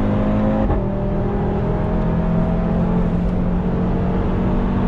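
An Audi RS3 ABT with 500 horsepower hums steadily and rises in pitch as it accelerates, a continuous close drone with no talking.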